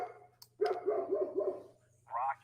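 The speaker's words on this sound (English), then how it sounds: "What's she barking at?" A dog barks in a quick run of several loud, close barks, preceded by a short yelp and followed by a brief higher whine, indoors with a steady low hum underneath.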